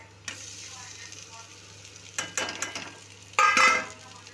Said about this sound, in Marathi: आता आपण यामध्ये बटाटे आहेत जे आपले कापून चिरून ठेवलेले, ते आपण ह्याच्या फोडणीमध्ये घालून घेणार आहे.